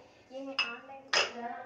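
A pile of dishes and pots gives two sharp clinks and clatters about half a second apart, with soft voices faint underneath.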